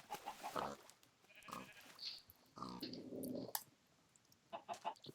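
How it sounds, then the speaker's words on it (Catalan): Sheep in the video game Minecraft bleat several times in short, separate calls over quiet ambient game sounds, with a few other brief effects. "Aquí hi ha ovelles,"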